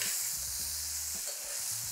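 Edamame beans fry in a hot pan with a steady bright sizzle, while a utensil stirs them through with a few soft scraping knocks, close and continuous, with no one talking.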